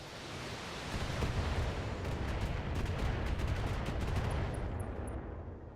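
Mech weapons firing together in the BattleTech video game, a sustained roaring barrage of rapid cannon and gun blasts that swells and then tapers off.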